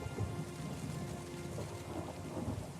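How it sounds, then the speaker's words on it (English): Steady rain and rumbling thunder in a storm in the video game Pillars of Eternity II: Deadfire, heard outside a lighthouse as a continuous, fairly quiet wash of rainfall with low rolling thunder and no talk. "Started to rain."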